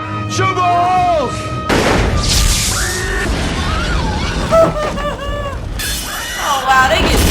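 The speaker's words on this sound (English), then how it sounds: "Shoot more holes! Shoot more holes!" Gunfire from a vampire action film plays loudly and continuously, with booming shots and crashes mixed with shouting and screaming voices throughout.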